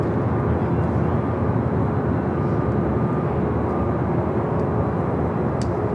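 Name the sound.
Delta Boeing 767 airliner taking off at LAX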